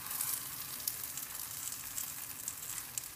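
Dough fries in hot oil for Moroccan pastry as oil is drizzled over the top, a soft continuous sizzle with small crackling pops throughout, no voices.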